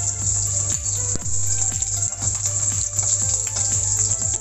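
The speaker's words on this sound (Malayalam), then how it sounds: "നമ്മുടെ എണ്ണ ചൂടായിട്ടുണ്ടെങ്കിൽ ഇതിലേക്ക് നമുക്ക് കടുകിടാം." Mustard seeds splutter in hot coconut oil, a rapid run of sharp, close pops and crackles over a steady background hum.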